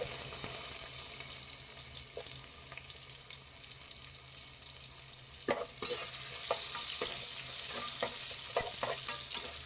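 Sliced onion sautéing in oil for sambar, a low, even sizzle that grows brighter later, punctuated by several sharp spatula taps and scrapes against the pan, close and quiet with no talking.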